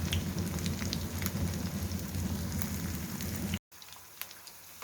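Yam slices frying on a tawa over a medium flame give a steady, dense sizzle and crackle with scattered sharp pops, close and fairly loud, cutting off abruptly before a quieter, thinner sizzle resumes.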